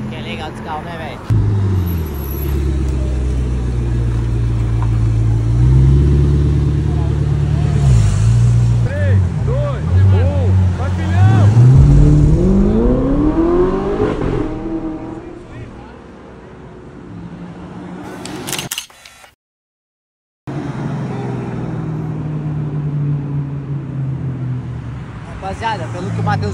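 A McLaren Senna V8 idles with a heavy, close rumble, then revs in rising sweeps before easing off; the sound cuts out briefly, then the engine drone resumes.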